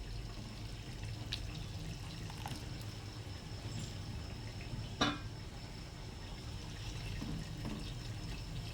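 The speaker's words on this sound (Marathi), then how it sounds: "भातातलं पूर्ण पाणी काढून घेतलेलं आहे" Cooked rice being drained of its water in a home kitchen, with a soft continuous pouring and trickling wash throughout and a brief clatter partway through, heard alone without talk.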